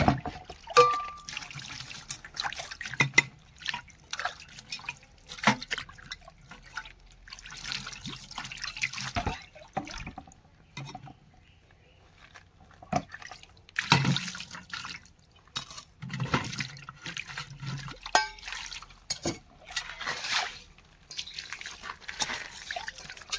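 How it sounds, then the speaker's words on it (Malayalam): Water poured over vessels just cleaned with a cleaning solution, heard as intermittent splashes and trickles with drips between pours, close and moderately loud. "ഞാനിതിൻ്റെ മേലെ ഒന്ന് വെള്ളം ഒഴിക്കാൻ വേണ്ടി പോവാണ്"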